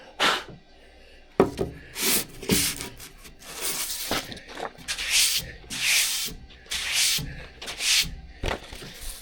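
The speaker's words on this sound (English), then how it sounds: "I grabbed a piece of 220 sandpaper just to polish this up a little" A transitional hand plane being polished with 220-grit sandpaper: close, rhythmic rasping strokes repeat steadily back and forth, with brief pauses between some passes and no talking.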